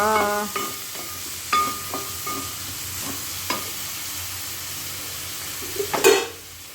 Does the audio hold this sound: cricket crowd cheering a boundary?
no